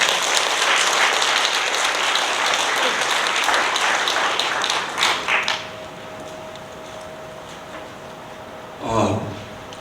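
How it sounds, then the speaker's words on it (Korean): A lecture audience bursts into sustained applause that gradually fades out, followed by a short bump of handling noise. "여러분 큰 박수로 시작하겠습니다"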